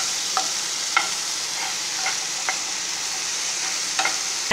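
Spices fry lightly in a pan, a soft continuous sizzle broken by a handful of sharp scrapes and taps of a spoon stirring against the metal.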